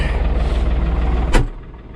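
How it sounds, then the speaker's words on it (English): Farm tractor idling while it warms up in cold, snowy weather: a deep, steady, pulsing diesel rumble close by, broken by a short sharp hiss before the engine settles lower. "I'm trying to let this tractor warm up a little bit."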